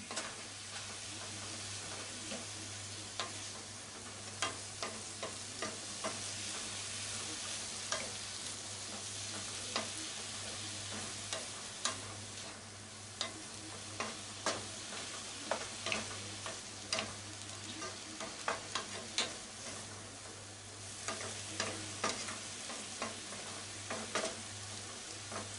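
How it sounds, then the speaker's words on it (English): Carrots being stir-fried for ninjin shirishiri, a steady sizzle with frequent clicks and scrapes of stirring in the pan, close and continuous throughout with no talking. "Fry them for about 5 minutes."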